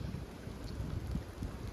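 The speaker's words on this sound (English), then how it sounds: "And it's raining." Rain falls steadily in an outdoor spot along Sonora Pass in California. It makes a dense, constant patter with low rumbling noise, close and moderately loud, with no talking.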